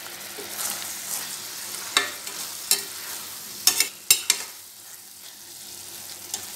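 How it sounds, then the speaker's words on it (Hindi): Coconut barfi mixture being stirred in a pan over a low flame, a soft continuous scraping with several sharper clicks of the spoon against the pan, close and fairly quiet, no talking. "बीच बीच में इसे धीमी आंच पे चलाते रहिए"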